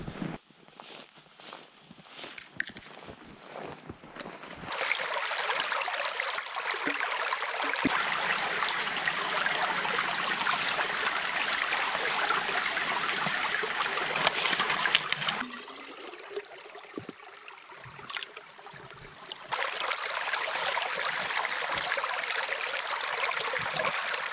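Winter stream flowing in the woods, a steady rushing wash of water that fills most of the clip, dropping briefly as footsteps crunch nearby, then surging back strongly.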